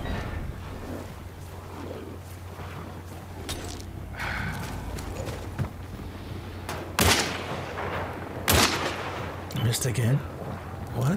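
Gunfire from a PS5 shooter game, a few sharp loud cracks standing out over a busy, noisy background of game sound, with a player's voice heard now and then.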